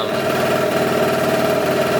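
Scooter engine idling after an idle-mixture adjustment, a steady close buzzing putter with an even rapid firing rhythm and no voices over it.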